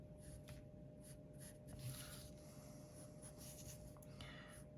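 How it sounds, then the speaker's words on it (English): Pencil scratching on paper while drawing a tyre of a Tesla Cyberquad, faint soft strokes in short repeated bursts over a quiet hum. "And we can then start drawing that front right tyre."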